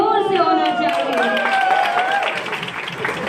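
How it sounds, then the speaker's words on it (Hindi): Audience at a Diwali celebration clapping in a steady wash of applause, with shrill rising and falling whistles cutting through and crowd voices mixed in beneath. "और तालियों और सीटियों का हल्ला थोड़ा जोर से होना चाहिए"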